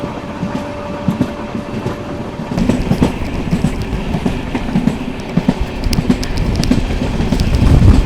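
A Southern Railway train crosses the New Pamban Bridge toward Tambaram, its steady rumble and rhythmic clickety-clack of wheels on rail growing louder and closer throughout, with no talk.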